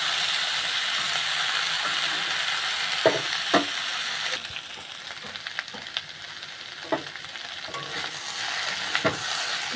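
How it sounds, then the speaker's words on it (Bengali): Mixed vegetables with pumpkin stalks, papaya and potato sauté in an oily pan, giving a steady hissing sizzle with a few sharp clicks of a spatula stirring, and no voices. "সবজিগুলো দিয়ে এর সাথে ভালো করে কষিয়ে নেবো বন্ধুরা সবজিগুলো ভালো করে কষিয়ে নিতে হবে"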